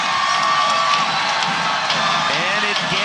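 A large arena crowd roars and cheers continuously at a UAE Warriors MMA cage fight between Fabio Mello and Mark Alcoba, with whistles and shouts rising over the steady din, and a commentator talks over it.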